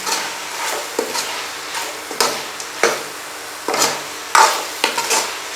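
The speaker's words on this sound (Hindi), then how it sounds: "फ्राई की हुई अरबियाँ शामिल कर देते हैं और इनको अच्छी तरह मसाले में मिक्स कर देते हैं" A spoon stirs fried taro root through a thick masala gravy in a pan, with repeated scraping strokes and metallic clinks at an irregular rhythm, close and fairly loud, with no voices.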